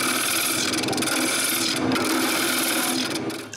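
A lathe tool cuts a shallow lid-sized hole into spinning wood for a potpourri box, giving a steady, close scraping rasp that runs continuously with a slight fade at the end.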